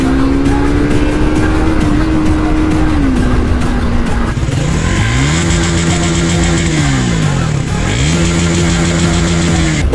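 A Triumph Thruxton 400 motorcycle engine is heard up close at speed, droning steadily, then revving up and easing off twice in rising and falling sweeps over a rush of wind noise.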